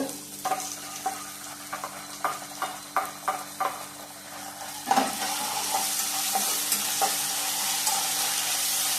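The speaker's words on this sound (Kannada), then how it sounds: "ಫ್ರೈ ಆಗಲಿ ಫ್ರೈ ಆಗಲಿ ಈರುಳ್ಳಿ ಸ್ವಲ್ಪ ಫ್ರೈ ಆದಮೇಲೆ" Onions frying with ginger-garlic paste in a pan at home, a near crackling sizzle with a run of quick spatula scrapes early on, then a louder, steadier hiss after a clatter midway.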